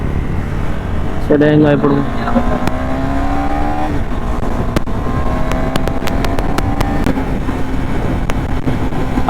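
A car drives on the track at the Suzuki Matsuri event, its engine drone rising in pitch as it accelerates, under steady nearby talk in Telugu.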